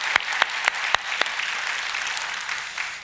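A church congregation applauds to welcome a visiting missionary who works in the Philippines, opening with a few sharp, loud claps that swell into steady, dense clapping from many hands in a large room, then begin to taper off.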